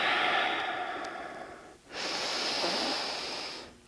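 Slow, deep breathing during a yoga pose, a long, loud airy inhale, a brief pause, then an equally long exhale, close and alone.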